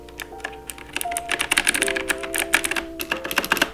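Rapid, crisp clicking of a mechanical keyboard with blue switches, a quick irregular burst of sharp keystrokes up close, with a faint tonal hum underneath.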